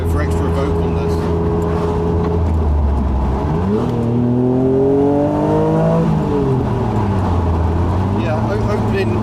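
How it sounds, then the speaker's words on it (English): Honda NSX engine roaring through a straight-through exhaust with the window open, loud and close, the revs falling then climbing in a sweeping rise before easing back to a steady drone. "this car has a straight-through exhaust system all the way from the engine to the tailpipes"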